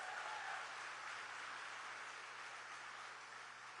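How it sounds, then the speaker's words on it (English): Steady broadband applause from a large audience at a campaign event on the Arizona border, a continuous wash of clapping holding at an even level throughout with no voices over it. "Let's clap for that"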